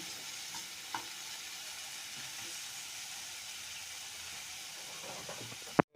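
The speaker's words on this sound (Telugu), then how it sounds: "చింతపండు గుజ్జు కూడా నూనెలో అయితే ఉడకాలి" Tamarind pulp frying in oil in a pan for a mint pickle, a continuous soft sizzle and hiss with a couple of faint stirring clicks, ending in a sudden bump.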